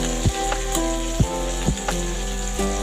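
Green chillies, crushed garlic and curry leaves sautéing in a hot pan, a loud constant sizzle under a steady hum, punctuated by a few sharp spatula knocks and scrapes, close and without talk.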